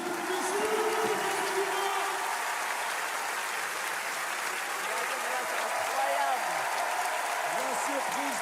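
An audience applauds and cheers for Michou in a dense, steady roar of clapping and shouts that runs the whole time, with voices rising over it.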